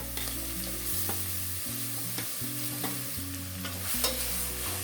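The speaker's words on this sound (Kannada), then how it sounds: "ಇವಾಗ ತುರಿದಿಟ್ಕೊಂಡಿರ್ತಕ್ಕಂತಹ ಬೀಟ್ರೂಟನ್ನು ಹಾಕೋತಾ ಇದ್ದೀನಿ" Grated beetroot stir-fried in hot oil with ginger for beetroot palya: a steady sizzle with repeated scraping stir strokes, close and fairly quiet, soft music underneath and no talking.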